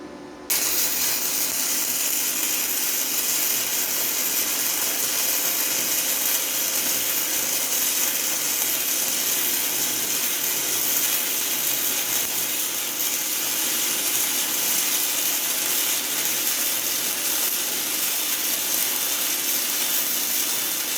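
HBM2280 welder running a bead on 1/4 inch steel plate, a steady loud crackling hiss that starts abruptly and holds for about twenty seconds without pause.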